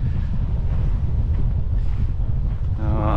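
Wind blows hard across an open peat bog during peat harvesting, buffeting the microphone with a loud, steady low rumble and no talking.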